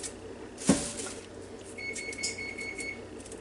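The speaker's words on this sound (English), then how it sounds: "I've just heard it go off and beep at me to tell me that it's hot enough" A kitchen oven signalling it has preheated to 350 degrees, with a sharp click or knock followed by a thin, steady electronic beep tone held for about a second, faint against quiet room noise.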